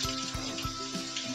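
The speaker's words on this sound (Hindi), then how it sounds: "इसी टेम्परेचर पर हमें लच्छे को फ्राई करना है।" Potato lachha strands dropped into hot oil, a steady bubbling sizzle with soft periodic pops, close and even throughout.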